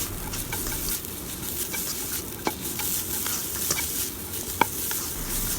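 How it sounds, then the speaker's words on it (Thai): Minced pork and long beans being stir-fried in a pan for a Thai omelette filling, a steady close sizzle with scraping spatula strokes and a few sharp utensil clinks against the pan, no voices. "จากนั้นก็ใส่ถั่วฝักยาวลงไป แล้วก็ ผัดต่อค่ะ ขั้นตอนตรงนี้เราจะผัดให้ถั่วฝักยาวสุกก่อนค่ะ"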